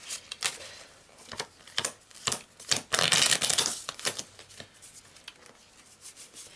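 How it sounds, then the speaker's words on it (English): Magic: The Gathering cards are shuffled by hand during a mulligan. Rapid, crisp riffling bursts repeat close up, swelling into one longer flurry midway before continuing in quicker, lighter snaps. "Because we're mulliganing and I'm still shuffling."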